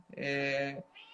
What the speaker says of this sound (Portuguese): Detalhe, nós temos 2 gatos, então esse é o barulho que vocês estão escutando agora.